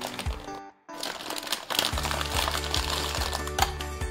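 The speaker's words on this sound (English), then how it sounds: "It's a very big plastic bag." A large plastic bag around a blind box figure from the Sank The Child On The Journey series crinkles and crackles as it is handled. The rustling is close and continuous, with one brief gap and a few sharper crunches.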